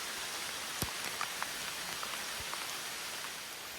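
Rain falls steadily on a hiking trail, a soft, even hiss with scattered sharper drops tapping nearby surfaces, heard alone without talk.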